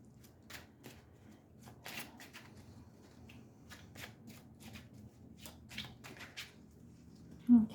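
Tarot cards are shuffled by hand in a quiet room, a series of soft riffling bursts and flicks repeating at an irregular pace, with a louder thump at the end.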